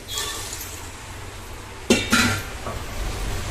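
Cooked chickpeas tipped into an onion-tomato masala in a pan, giving a couple of quick clanks and a soft wet slide against the metal, with a faint frying hiss before and after.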